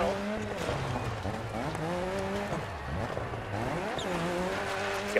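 In DiRT 4, a rally car's engine revs up and down through gears, its pitch climbing and falling over a few seconds with tire noise underneath, loud and close, with faint talk mixed in.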